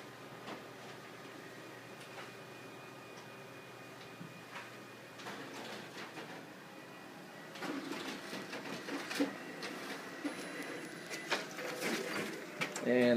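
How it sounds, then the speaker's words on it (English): A Ricoh MP C2500 multifunction color copier with a finisher whirs and hums faintly at first, then grows louder with clacking feed and stapling mechanisms toward the end. "they went very smoothly through the document feeder"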